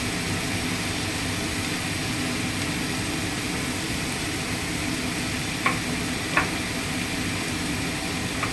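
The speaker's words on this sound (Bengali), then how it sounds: "নুন দিয়ে আবার একটু নেড়ে চেড়ে নিলাম।" Salted chicken sizzles in a pan with a loud, continuous frying hiss, while a spoon stirs it and knocks twice against the pan.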